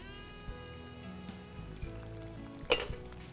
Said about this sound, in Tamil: நல்ல வெங்காயம் தக்காளி நல்லா வதங்கிடுச்சு பாருங்கள்.